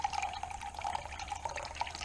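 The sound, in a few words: green bean juice poured from a can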